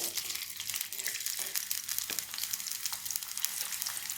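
Sliced onions frying in hot oil in a kadai give a steady, close crackling sizzle with dense bubbling that runs without a break, with a few louder pops and no voices.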